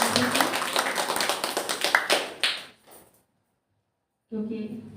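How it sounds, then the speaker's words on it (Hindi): An audience at a spiritual gathering in India claps together in a burst of dense hand claps lasting a few seconds, then falls silent before a voice resumes speaking. "एक बार हम सभी ताली बजा देंगे।"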